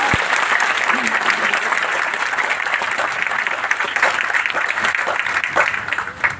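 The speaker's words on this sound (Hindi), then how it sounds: "जोरदार तालियां हो जाए आप लोग।" Loud, sustained applause from a seminar audience at a Vestige event fills the whole stretch as dense, steady clapping, with a brief spike near the end and no clear talk over it.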